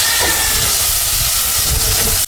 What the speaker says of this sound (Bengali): দেড় কাপ ছোট চিংড়ি নিয়ে নিয়েছি এগুলাকে এখন তেলের ভিতর ভেজে নেব